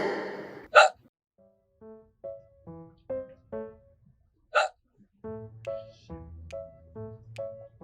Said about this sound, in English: Sounds like somebody's got the hiccups.